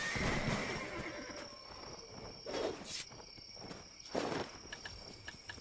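Horse neighing during a horse capture in the video game Black Desert: two loud whinnies rise over a steady insect-like chirring, with faint hoof-like steps between them.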